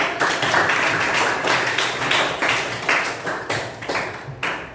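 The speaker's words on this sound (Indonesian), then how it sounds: "Beri tepuk tangan." A classroom of students gives a round of applause, a dense burst of many hands clapping that thins into a few separate claps as it fades out over about five seconds.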